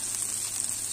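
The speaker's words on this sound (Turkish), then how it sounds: "Soğanı kavurdum" Onions sizzle steadily in a hot frying pan while fellah kofte is made, a bright continuous crackling hiss with no voices.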